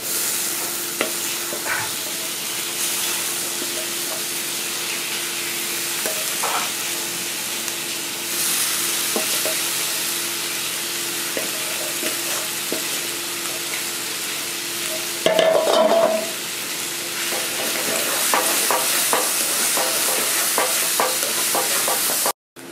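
Deboned fish pieces stir-fry in a hot pan with masala, a steady close sizzle broken by scraping spatula strokes and a brief louder clatter midway, with no voices.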